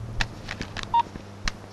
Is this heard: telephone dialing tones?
yes